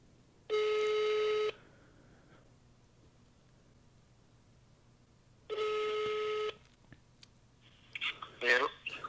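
Two long ringback tones about four seconds apart, heard through a phone speaker in a quiet room, followed by brief noise as the call connects.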